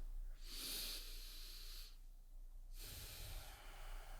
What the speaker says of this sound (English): Nice slow nasal breathing.